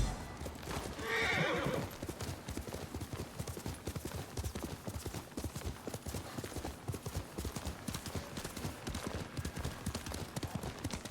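A horse in Ghost of Tsushima gallops with steady, rapid hoofbeats throughout, and a neigh rings out near the start; the sound is moderately quiet and carries on without pause.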